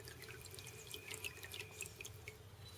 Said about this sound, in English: If I can squeeze it, so we can get some water out of it without sucking on it.